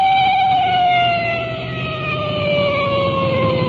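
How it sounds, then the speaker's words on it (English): A police car siren wails with a steady, slowly falling tone, loud and close over a low vehicle engine rumble. "that siren hits such a high peak it's almost impossible to talk"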